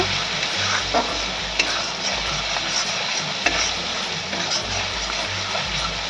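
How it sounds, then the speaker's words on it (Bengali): Spice paste with red chilli powder is stirred in hot oil for a pumpkin and drumstick vegetable curry, giving a steady close sizzle with scraping spatula strokes and low burner rumble. "মশলাটা খুব ভালো করে আমি কষিয়ে নেব"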